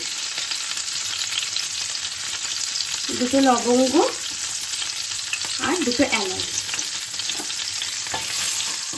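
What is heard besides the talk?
whole spices frying in oil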